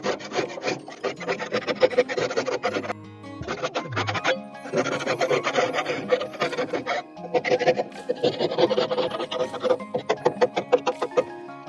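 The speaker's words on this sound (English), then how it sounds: "first I'm going to scrape it" Rough, rhythmic rasping as grease is scraped off a grill grate, repeated close strokes with brief pauses and a faster run of scrapes near the end.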